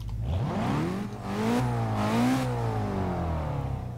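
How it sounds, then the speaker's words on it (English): In the Forza 6 racing game, a 2015 BMW X6 engine revs up slowly in several sweeping pitch rises and falls. The loud, close and continuous engine sound plays alone. "Revs up really slowly."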